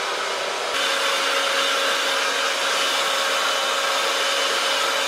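A hair dryer fitted with a nozzle attachment blows as a steady, close whooshing hum that grows louder and higher as it switches to a stronger setting about a second in, with no voices.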